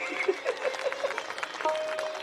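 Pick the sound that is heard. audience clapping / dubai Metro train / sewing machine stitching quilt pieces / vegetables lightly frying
audience clapping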